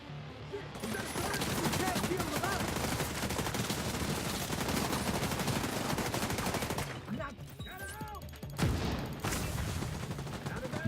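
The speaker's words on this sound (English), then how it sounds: "I've even got snipers taking shots at us up top, haven't they?" Continuous heavy gunfire in the PC shooter The Division 2 closed beta, with dense overlapping rifle and automatic bursts that run throughout, briefly thinning before a sharp loud shot and further firing.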